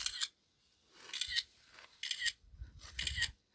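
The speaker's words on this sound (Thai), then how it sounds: "กดเสียงชัตเตอร์อะ" Four quick bursts of bright clicking, like a camera shutter, spaced about a second apart, with a low thump under the later ones.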